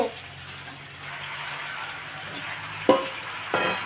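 Chicken pieces sizzle in a pan seasoned with ginger paste for a chicken curry, a steady close frying hiss with a couple of sharp stirring scrapes near the end and no speech.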